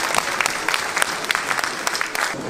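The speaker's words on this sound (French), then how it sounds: "Je vous demande de l'applaudir." Applause from the audience at a history-book prize ceremony, a full room of hands clapping in a dense, lively patter with sharper individual claps standing out, loud and sustained.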